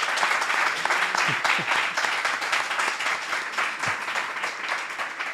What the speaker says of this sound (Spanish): Vamos a aplaudirnos, porque muchas gracias.